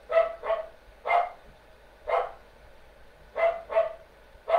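A dog barks nearby in short sharp bursts, two quick barks, then single barks spaced about a second apart, then another quick pair and a final bark, with no speech over them.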